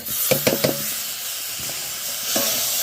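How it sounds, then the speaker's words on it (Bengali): Chopped tomatoes tipped into a pan of dried fish curry, with a few quick clattering thumps followed by a loud, steady sizzle and hiss close by. "এর সাথে আমরা দিয়ে দিব টমেটো কেটে রাখা এই যে রেখেছি এটা দিয়ে দিচ্ছি"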